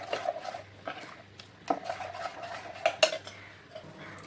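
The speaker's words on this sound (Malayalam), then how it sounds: "നല്ല ഇളക്കി കൊടുക്കുക." A spoon scrapes and clinks in a bowl while stirring a jaggery syrup and maida flour batter for Kerala naiyappam. The knocks and scrapes come close up and irregular, against a quiet background with no talking.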